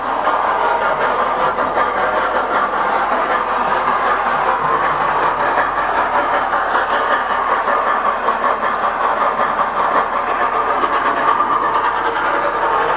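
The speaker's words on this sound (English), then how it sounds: "Get this little loco going as well." A small model railway locomotive runs on its track with a steady, close motor whir and a faint rattle of wheels that continues unbroken from start to finish.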